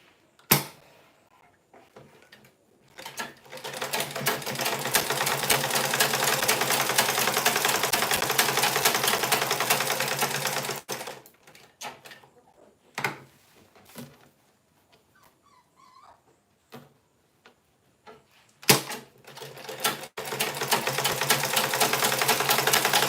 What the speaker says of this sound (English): I'm going to sew the wadding together with it.